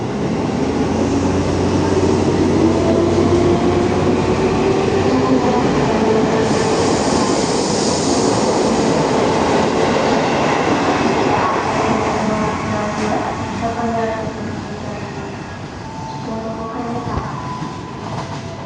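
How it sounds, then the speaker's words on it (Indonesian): KRL commuter train riding toward Bogor station, heard from inside the carriage: a loud, steady rumble of wheels and motors with rising whine and faint squeals, easing slightly near the end. "KRL yang telah saya naikin akan melanjutkan perjalanannya menuju stasiun Bogor"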